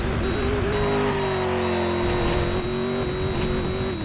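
A car engine in Driver San Francisco holds a loud, steady drone close up with a constant high whine on top, running continuously at near-even pitch for the whole stretch.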